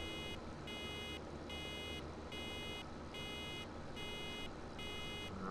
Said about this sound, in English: When the alarm stops,